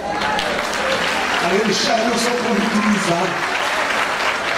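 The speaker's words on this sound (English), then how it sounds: "Give them a round of applause." Steady applause from a congregation at a prophet's church gathering, fairly close, with talking and a few voices over it.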